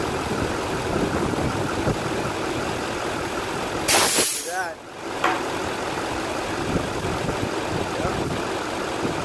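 A 2013 GMC 2500 pickup with a 6.6L engine idles steadily after a transmission fluid change, a smooth low drone with a brief burst of hiss midway.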